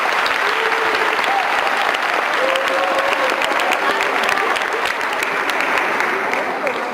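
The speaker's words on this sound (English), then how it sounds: "Give yourselves a round of applause." Steady, dense applause from a crowd of children at an anti-bullying rally at a Boys & Girls Club, with a few cheers and voices rising above the clapping throughout.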